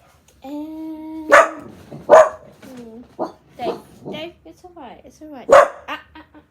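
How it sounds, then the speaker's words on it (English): Several dogs in a house bark loudly and close up in irregular bursts, reacting to a noise, with yips and a whimpering whine between barks while someone speaks soothingly over them. "this thing went off, and they were all barking at it"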